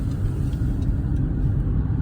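A car drives along a road in light snow on a misty morning, giving a steady low rumble of engine and tyre noise throughout, close and continuous with no talk.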